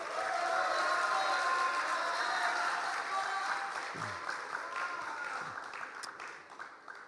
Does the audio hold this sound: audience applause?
yes